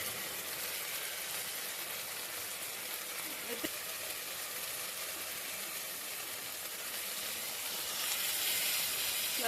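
Water hits hot spices with turmeric, chilli powder and salt in a pan for a katla fish curry, giving a steady, broad sizzling hiss throughout that swells slightly near the end, with faint talk underneath.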